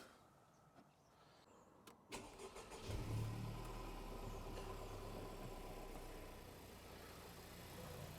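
A Honda Civic Type R FK2 engine starting in a workshop, a few quiet clicks, then a brief cranking whir that catches into a steady, close idle hum holding to the end.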